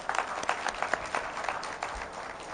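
An audience at a health awareness program claps together, a burst of fairly close, lively applause with distinct individual hand claps over a short stretch.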